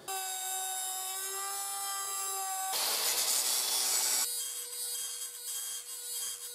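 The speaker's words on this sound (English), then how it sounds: "So I trimmed away all this shelf from around the outside" Trimming away a shelf of material around the outside of a boat hull, with a steady tonal power-tool whine broken by a harsh rasping cutting burst in the middle, close and loud with no talk.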